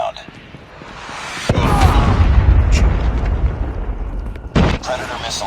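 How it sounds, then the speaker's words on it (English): A heavy boom from a Predator missile strike erupts in a Call of Duty-style shooter, a loud sustained rumbling blast that rolls on for several seconds, followed by a second sharp burst. "Be advised, hostile Predator missile inbound."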